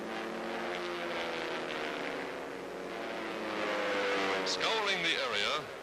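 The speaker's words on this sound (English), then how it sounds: "United Nations pilots take to the sky in fast fighting pursuit ships" Fighter pursuit planes taking off from an airdrome during wartime in the Australian theater, a steady engine roar that swells and passes close by, heard under a newsreel narrator's voice.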